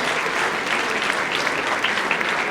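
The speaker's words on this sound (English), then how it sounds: "Give it a round of applause. The crowd goes wild." Audience applause at the Quincy Chamber of Commerce annual meeting, a loud, dense, steady wash of clapping from a crowd that holds for the whole stretch.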